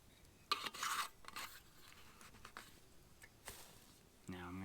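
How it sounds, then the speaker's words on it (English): Food is stirred in a container at an overnight woods campsite, with a few scraping strokes and light clinks against the container in short uneven bursts, fairly close but quiet. "Now I'm going to stir it up."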